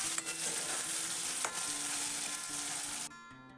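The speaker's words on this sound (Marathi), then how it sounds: "सगळं छान परतवून घेतलं." Cumin, mustard seeds and tomato sauté in a hot pan, a continuous soft sizzle with light stirring scrapes, ending in a brief clatter.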